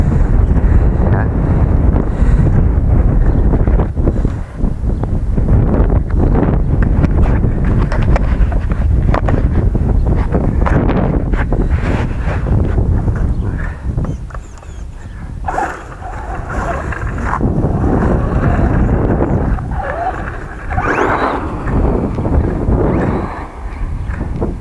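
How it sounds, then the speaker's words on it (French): Loud, roaring wind buffets the microphone without pause, surging and easing in strong gusts throughout. "vu le rafale de vent qu'il y a aujourd'hui"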